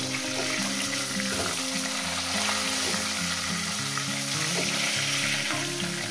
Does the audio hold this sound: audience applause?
no